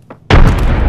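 A frag grenade detonates in Apex Legends, a single sudden loud boom after a brief quiet moment, its heavy low rumble sustaining to the end.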